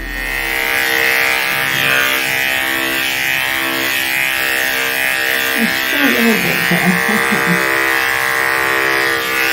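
Electric clippers running over an animal's body coat, a loud steady close buzz with a harmonic hum throughout, a voice speaking over it partway through.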